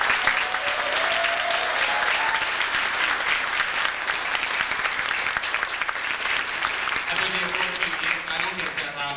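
An audience at a school committee meeting applauds the introduction of a school music teacher, with sustained dense clapping lasting several seconds, fading slightly toward the end as a voice begins speaking.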